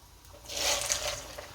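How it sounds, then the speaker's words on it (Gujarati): Chana dal goes into hot oil in a pan at home. A short, bright burst of sizzling hiss rises after a quiet start and fades within about a second. "આપણું તેલ ગરમ થઈ ગયું છે. આ દાળ તળ લઈએ."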